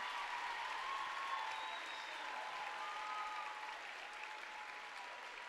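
A crowd applauds a cheerleading team's performance at a championship, sustained clapping that stays fairly even and slowly eases off, heard from the arena with some faint whistles over it.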